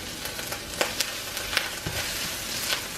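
Minced ginger frying in a hot pan for keto shrimp fried rice, a continuous close sizzle with scattered spits and pops as it cooks.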